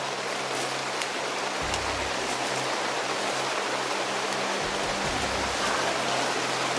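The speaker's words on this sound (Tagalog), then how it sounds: "Ang lakas ng ulan tol." Heavy downpour in the Philippines, a dense, unbroken hiss of rain pounding surfaces nearby with a low rumble underneath, steady and loud throughout, no voices.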